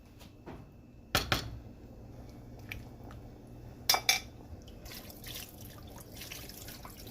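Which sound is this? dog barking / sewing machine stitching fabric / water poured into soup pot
water poured into soup pot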